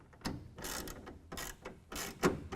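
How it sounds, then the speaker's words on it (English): A 1/2 inch wrench tightening tonneau cover clamps on a Toyota Tundra bed, giving close, quiet ratcheting clicks in short repeated bursts. "we're going to go ahead and tighten down each one of the clamps with a 1/2 inch wrench"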